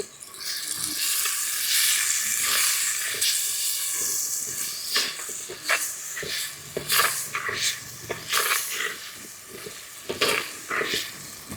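Loud hissing sizzle as spice paste hits a hot pan, settling into irregular spits and crackles with scraping stirs as the frying continues.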